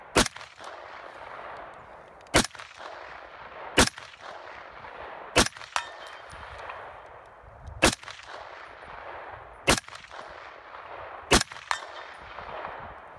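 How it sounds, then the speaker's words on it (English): Seven loud .308 rifle shots ring out at irregular intervals, each a sharp crack followed by the metallic ring of a falling steel target, over steady background noise with no talking. "Targets keep falling down because we're shooting it with 308."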